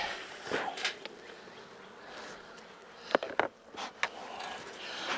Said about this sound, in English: there's also a lot of bees in the bottom box